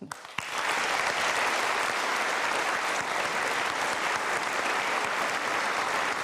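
A studio audience applauds in the chamber of Old Parliament House, home of the Museum of Australian Democracy, during a televised Q&A panel show. Dense, loud, steady clapping starts abruptly and sustains without a break to the end.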